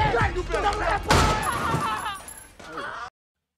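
A burst of gunfire cracks out near the start of a scene from the film Ride Along, followed by more sharp shots under tense, busy background noise.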